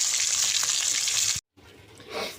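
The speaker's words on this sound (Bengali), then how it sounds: "মাছ ভাজা বসিয়ে দিলাম।" Fish frying in hot oil in a home kitchen, a steady bright sizzle that cuts out briefly and then returns more softly.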